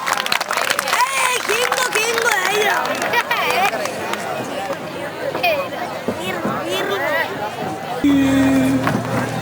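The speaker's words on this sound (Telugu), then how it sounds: "claps, big claps" Audience applause at a school annual day, loud sustained clapping from a crowd with chatter and an announcer's voice over it, before music starts near the end.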